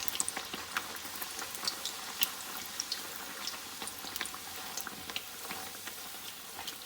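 Puri frying in ghee in a pan, a soft continuous sizzle with scattered small crackles and pops, steady and fairly quiet throughout, no voices.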